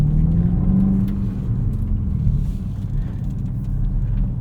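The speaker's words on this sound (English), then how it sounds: "And you start this up, you don't even hear a starter noise," A 2024 BMW X5 M with a mild hybrid system starts up without audible starter noise, settling into a deep, steady idle rumble that fills the cabin, close and continuous.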